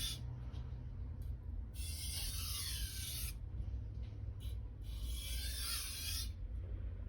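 A 165mm Santoku or Nakiri knife blade is stroked across a Chosera or Naniwa whetstone in two slow rasping passes, soft and close with a low hum underneath.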